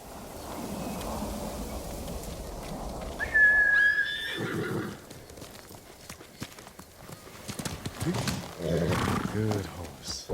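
A horse in the video game Ghost of Tsushima lets out a single loud, shrill whinny after a stretch of hoof sounds and ambient noise, followed by someone speaking and low snorting breaths.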